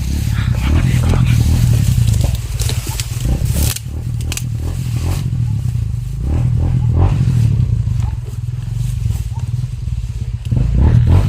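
Motorcycle engine running close by with a steady low drone, mixed with clattering and scraping, while people talk over it.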